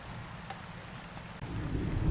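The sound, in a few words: rain falling with thunder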